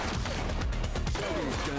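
Gunshots in the police game The Precinct, set in Averno City: a short, dense rattle of overlapping shots at steady volume, cracking over a thick backdrop of ambient noise.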